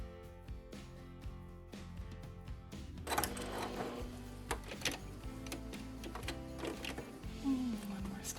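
A sewing machine stitches a vinyl tote bag with a quiet, close, rapid mechanical ticking that stops and starts, with soft talk in the background.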